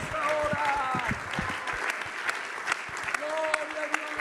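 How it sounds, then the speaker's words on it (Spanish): Church congregation applauding during a Spanish-language worship service, steady dense clapping filling the space while sung or spoken voices carry over it. "Aplauda la grandeza del Señor en esta hora."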